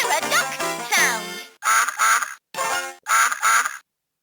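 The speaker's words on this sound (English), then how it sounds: "Hear a duck sound." Several bright, nasal duck quacks from a LeapFrog Fridge Farm electronic toy, preceded by a short chirpy toy jingle; the quacks come in two quick pairs with brief gaps, loud and close.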